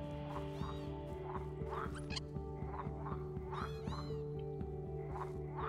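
Repeated croaking calls from toads in the online game Meadow, several overlapping calls arriving in a steady rhythm over a droning ambient game background.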